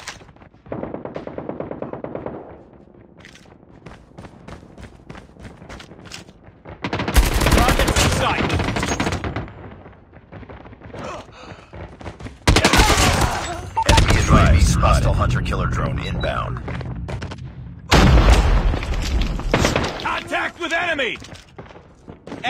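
Bursts of gunfire in the mobile shooter Call of Duty: Mobile, loud rattling volleys arriving in three separate waves between quieter stretches, with game voice callouts and other sounds in the gaps.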